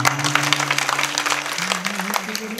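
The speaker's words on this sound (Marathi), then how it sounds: "वाजवा की टाळ्या मग." A kirtan audience claps together in a dense, even burst of applause that holds steady throughout, with a low sustained tone running beneath it.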